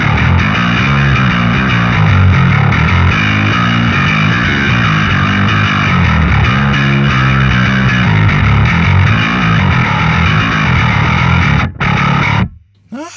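High-gain, heavily distorted bass guitar through a Kemper amp profile, loud and gritty with a dense, continuous riff for about twelve seconds before cutting off sharply.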